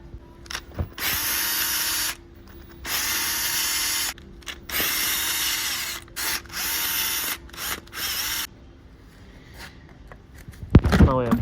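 Bursts of a power tool buzz on and off in repeated long stretches during a car engine valve cover teardown, followed by a sharp metallic clack at the end.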